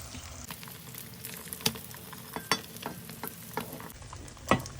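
Beaten eggs poured into hot oil fry as an omelette, a soft, steady sizzle punctuated by several sharp crackles and pops, some close and loud.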